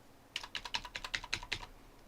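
Rapid clacking keystrokes on a USB computer keyboard, about a dozen crisp taps in an uneven typing rhythm, close and clear with nothing else over them.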